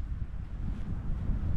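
Wind gusting across an open hillside in the Brecon Beacons, a steady low rumble buffeting the microphone throughout with no voices.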